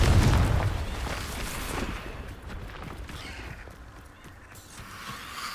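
A Confringo blasting-spell explosion in a Hogwarts video game bursts loudly at the start, then rumbles and fades into a lingering crackling tail, heard alone without talk.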